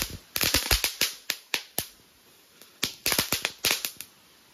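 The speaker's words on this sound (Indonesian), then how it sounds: "Ngabuburit nyumet mercon telur dino di atas wajan" Dino egg firecrackers set off on a wok crackle in irregular clusters of sharp, loud bangs separated by short pauses, over a thin, steady high-pitched whine.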